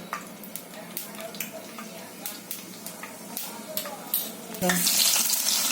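Mustard seeds pop and sizzle in about one and a half ladles of hot oil, with repeated sharp crackles over a steady hiss that rises to a louder, fuller sizzle near the end. Heard up close with no speech.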